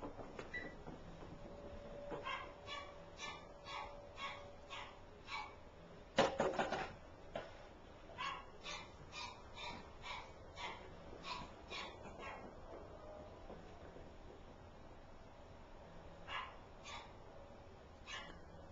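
Dogs barking in short bursts at a distance, repeated irregularly over a quiet room, with one louder cluster of barks partway through.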